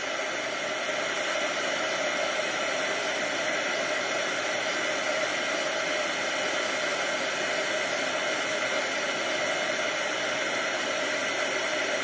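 An embossing heat tool blows hot air over an embossed catalog card, giving a steady, even whoosh like a hair dryer that runs close and unbroken throughout, with no talking.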